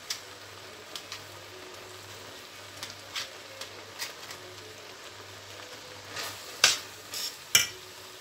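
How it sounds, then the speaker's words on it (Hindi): Ghee sizzling faintly in a pan for gajar halwa, carrots being stirred and fried, with soft scraping strokes and a few sharper clinks of the spoon against the pot, no voices. "घी डाल के फिर इसको भूनेंगे हम।"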